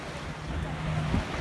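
Waves wash in at a small beach bay near Playa Tortugas, a continuous, fairly loud surf rush mixed with wind buffeting the microphone, and no voices.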